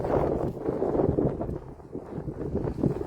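Steady gusty wind buffets the microphone outdoors in snow at a church, a continuous low rumble with rustling that rises and falls throughout.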